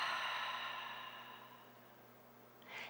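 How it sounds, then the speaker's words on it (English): A long, soft exhale through the mouth during a yoga breathing practice, a breathy hiss that slowly fades, then a short second breath at the end, quiet and close. "Exhale through the mouth."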